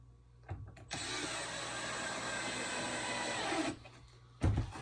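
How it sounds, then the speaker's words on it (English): A power screwdriver drives screws into the roof seam of an Acadia Cottage dollhouse kit, one steady whirring run of about three seconds, close and alone, followed by a short clunk. "Push up tight before you screw so that you close the seam."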